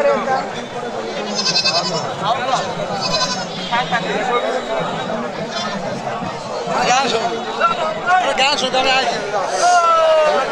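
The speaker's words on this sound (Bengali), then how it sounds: "দেখেন দেশি জাতের ছাগল" Native goats bleat again and again amid a noisy livestock market crowd, their calls rising over constant chatter and talking nearby.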